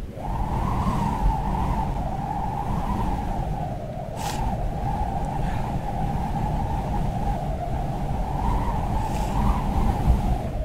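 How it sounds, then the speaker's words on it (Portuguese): A car drifting in the game Creative Destruction gives a long, steady, loud tire squeal over engine roar, holding its pitch for about ten seconds with no break. "Cara, vou fazer um drift, caralho."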